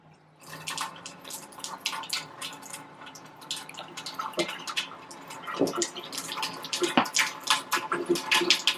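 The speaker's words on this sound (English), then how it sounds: "So what the machine is doing right now is filling up with the water." A K8 machine fills with water from a diverted supply line, giving a close, busy trickle and spatter of running water that grows louder over several seconds.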